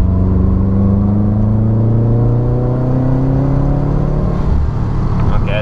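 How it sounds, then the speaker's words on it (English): A Subaru with a cylinder misfire accelerates in third gear, its engine drone rising steadily in pitch under loud, continuous cabin rumble, heard from inside the car with no speech. "All right, we're getting into third gear now. I'm gonna roll onto it."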